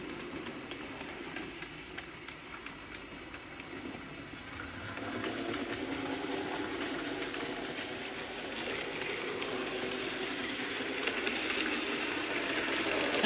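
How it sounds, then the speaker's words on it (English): A 00 gauge model Terrier locomotive with an old Type 7 motor running noisily, a continuous whirring rumble with a soft repetitive chuff that grows slightly louder as it comes closer. "That Terrier is a bit of a noisy runner, but it's got the old Type 7 motor"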